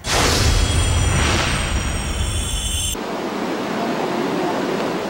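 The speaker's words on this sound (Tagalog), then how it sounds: "Walang humpay ang paghampas sa mga nagngangalit na alon sa dalampasigan." Strong typhoon wind and waves crash against the shore at Iba, Zambales during Typhoon Egay. The roar is loud and continuous, a heavy wash of noise that cuts abruptly to a lighter, steady surf hiss partway through.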